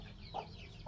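A Rhode Island Red chicken gives two brief, soft clucks, close but quiet over faint background noise.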